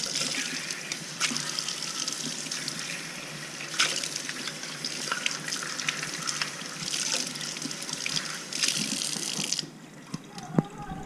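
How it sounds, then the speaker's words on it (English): Running tap water pours steadily as a container is rinsed at a kitchen sink, a close, continuous splashing rush that stops near the end, followed by a single sharp knock. "I'll rinse it off and put it in the recycling."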